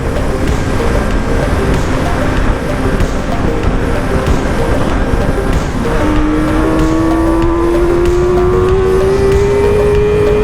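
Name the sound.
car driving past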